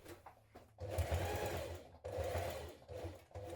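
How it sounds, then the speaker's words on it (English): A sewing machine stitches a 6 mm seam on trousers in two main runs of steady motor whirring with brief stops, quiet and close, with no voices. "Now we're going to stitch this in place with a 6 millimetre seam here."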